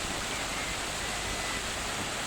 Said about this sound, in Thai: น้ำที่ไหล